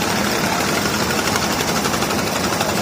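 Loud, close, steady chugging drone of a sand-carrying trawler boat's engine in Sylhet, running continuously with no pauses.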